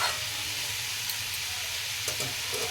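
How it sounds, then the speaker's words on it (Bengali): Chili chicken with onion and capsicum being stirred in a hot pan, a steady loud sizzle of frying throughout with a few faint scraping strokes, no talking. "ভালো করে একবার নাড়িয়ে নেব।"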